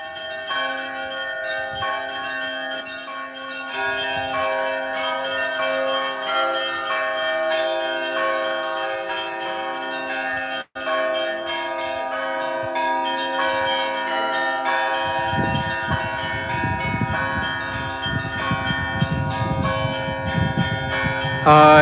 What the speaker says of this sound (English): They're ringing the bells.